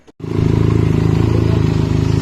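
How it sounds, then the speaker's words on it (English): A Benelli TNT 300 motorcycle fitted with an IXIL X60 exhaust and a dB killer starts up and holds a steady, loud idle rumble up close, with a brief silence at the start. "So this is the exhaust note of X60."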